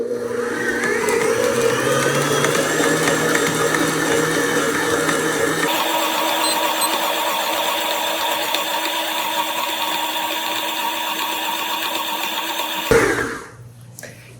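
Stand mixer kneading doughnut dough at a higher speed, a steady whirring motor hum with a constant mechanical whine that shifts pitch partway through, running alone and close before cutting off abruptly near the end.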